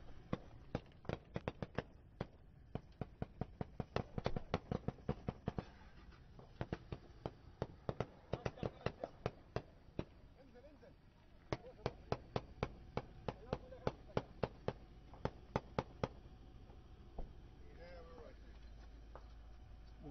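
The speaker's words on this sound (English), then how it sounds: "What are they shooting at?" Gunfire exchange near Mosul, Iraq: a long run of sharp rifle shots, some in fast bursts and others spaced out, cracking over a steady background hum, with a voice speaking at moments.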